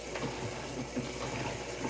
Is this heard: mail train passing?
no